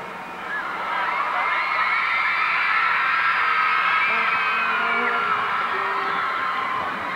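A concert audience at a show screams and cheers in a sustained, high-pitched roar of many voices, swelling after a moment and holding loud and steady throughout.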